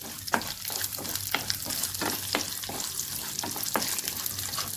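Lentils and green chillies fry in tempering oil with a continuous close sizzle, punctuated by sharp crackles and pops at irregular intervals.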